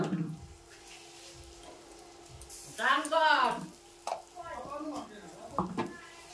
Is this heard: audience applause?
no